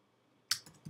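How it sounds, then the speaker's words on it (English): A brief burst of computer keyboard typing during a WooCommerce store setup walkthrough, a few quick close key clicks after a near-silent pause. "Told you my typing was crap."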